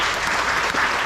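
Town hall meeting audience breaks into continuous applause, a dense wash of clapping hands sustained steadily throughout with no voices standing out.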